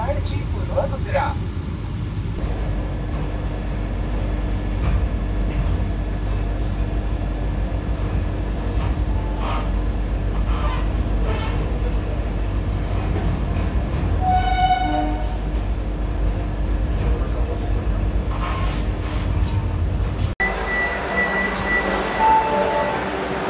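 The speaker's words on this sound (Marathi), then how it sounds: "279 किलोमीटरचं अंतर पूर्ण करून आता आपण मिरज रेल्वे जंक्शनवर आलेलो आहोत" Vande Bharat Express on the Pune to Kolhapur route pulling into Miraj Junction, a steady rolling rumble of the train from on board with brief horn-like tones, people talking over it, and an abrupt change in the sound near the end.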